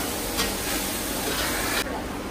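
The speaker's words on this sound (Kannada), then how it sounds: "ಈಗ ಎಣ್ಣೆಯಲ್ಲಿ ಚೆನ್ನಾಗಿ ಹುರ್ಕೊಳ್ಳೋಣ" Mutton chops fry in oil, giving a dense, loud, continuous hiss-like sizzle close up that eases off slightly near the end.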